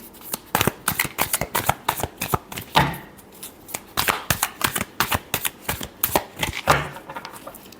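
A tarot deck is shuffled by hand in a rapid run of crisp, close riffling snaps, with a few brief pauses between bursts.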